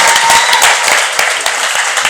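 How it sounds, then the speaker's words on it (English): Audience applause after a podcast guest introduction, dense and steady clapping from a crowd, loud and close throughout with a brief hint of voices underneath. "Round of applause."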